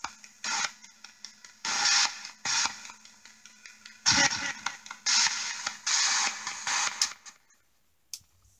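A spirit box sweeps through Spiricom frequencies, giving choppy bursts of raspy, buzzy radio noise that start and stop in irregular fragments with brief gaps, ending in a faint tail.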